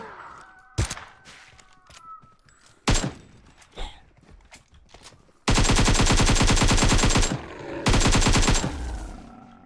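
Gunfire in PUBG Mobile: scattered single sniper-like shots early on, then a long, loud burst of rapid automatic fire followed by a second heavy burst, all close and harsh, with no talking.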